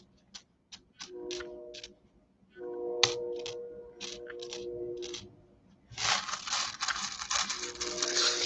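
Nickels clinking as a hand digs through a bag of coins sitting in a bucket, bright metallic clicks in short bursts, then a denser, louder stretch of jingling and rattling toward the end.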